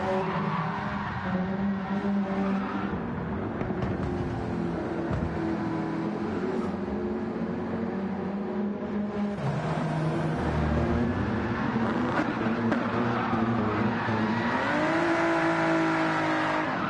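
A race car in Gran Turismo 7 spins post-race donuts at Fuji, its engine droning and revving steadily while tires skid and squeal continuously for about seventeen seconds, loud and close with no talking.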